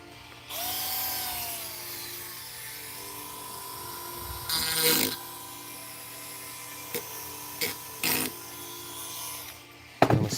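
A file smooths a workpiece at a workbench, making a few short, close rasping strokes spaced apart over a quiet background hum, with no talking.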